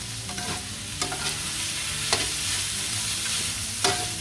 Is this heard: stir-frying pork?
yes